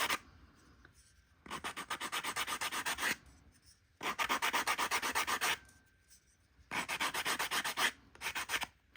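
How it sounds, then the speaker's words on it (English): A sanding block rubs a small wooden ornament in three steady bursts of quick, close back-and-forth scratching, separated by short pauses and no voices. "And then I actually just sanded the top."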